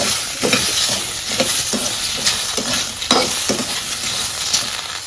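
Tomatoes fry in a pan for a village tomato chutney, with a bright sizzle and regular scraping stir strokes about every half second, close and fairly loud.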